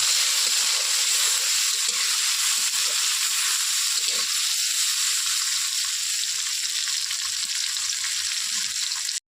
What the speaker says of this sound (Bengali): দিয়ে একটু ভেজে নিই কাঁচা টমেটো